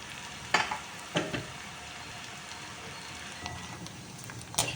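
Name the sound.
frying in hot oil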